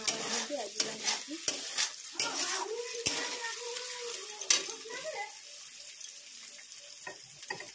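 Chicken sizzles steadily in a pan while a spoon stirs and scrapes through it in repeated close strokes, and a voice speaks at times over the frying.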